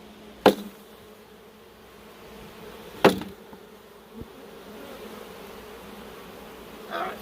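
A low, steady buzzing of many honeybees around an opened hive fills the background, broken by a few sharp knocks and taps.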